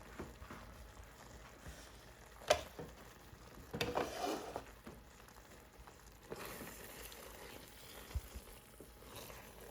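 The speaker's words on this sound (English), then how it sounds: "let's stir this a little" Food being stirred in a pot during off-grid home cooking, with a few scraping and clinking strokes and soft sizzling at moderate distance, no talking.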